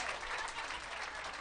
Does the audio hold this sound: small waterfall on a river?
no